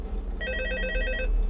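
A telephone rings in the video game Five Nights at Freddy's 2, one steady electronic trill lasting about a second over a low background hum, with no voices.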